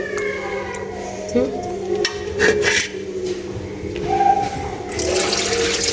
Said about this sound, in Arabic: نغسلو مليح حتى يخرج هذاك الماء الابيض كاع